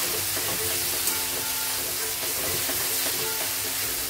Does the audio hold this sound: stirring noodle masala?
yes